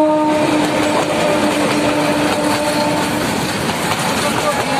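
A train arriving at Jamalpur Town Junction rumbles steadily close by with a continuous mechanical drone and faint high tones, the noise loud and unbroken throughout.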